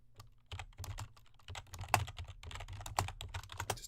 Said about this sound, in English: Just typing something real quick.